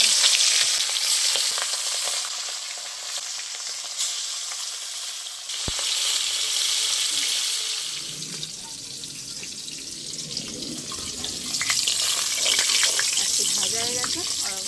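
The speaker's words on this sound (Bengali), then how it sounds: "তেল গরম হয়ে গেছে, এবার নুন হলুদ মেখে রাখা মাছগুলো ভেজে নেব" Hilsa fish pieces rubbed with salt and turmeric fry in hot oil, a loud, steady broadband sizzle that runs throughout with a brief sharp knock partway through and shifting, bubbling spatters toward the end.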